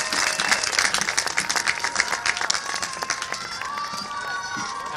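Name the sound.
audience applause at commencement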